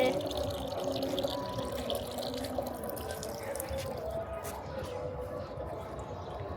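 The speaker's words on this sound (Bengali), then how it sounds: "এই গাছে পানি দিতে আসছে।" Water trickles and splashes steadily with occasional drips as a chili plant is watered, a continuous pouring sound close by, fairly quiet throughout.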